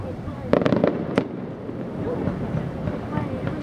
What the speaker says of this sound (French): Les feux d'artifice, en fait,